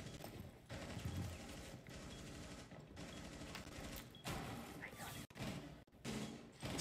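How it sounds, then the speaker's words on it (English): Rapid bursts of gunfire ring out in a competitive collegiate Rainbow Six match, dense automatic volleys with sharp gaps between them, mixed with a commentator's voice. "Is going to catch the gunfire."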